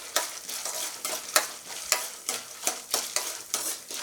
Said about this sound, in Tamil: எண்ணெயிலே நல்லா வந்துட்டு நமக்கு கொஞ்சம் ஃப்ரை ஆகி வரட்டும்.